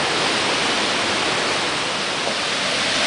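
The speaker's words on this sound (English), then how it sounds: "This is the world famous Staubach waterfall." Roaring Staubbach waterfall in the Swiss Alps, a steady, dense broadband rush of falling water heard close and loud throughout with no voices.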